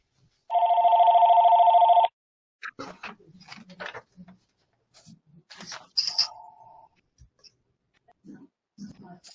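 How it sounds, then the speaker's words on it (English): A telephone rings once with a single sustained electronic trill lasting about a second and a half, loud and clear at first, followed by scattered clicks, rustling and brief sounds during a chapter meeting. "I thought that was my telephone ringing."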